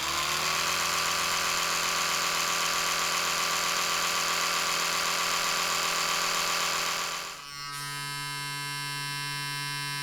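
A Sonicare electric toothbrush hums steadily and close, then its tone shifts abruptly to a lower, quieter buzz partway through; no one speaks.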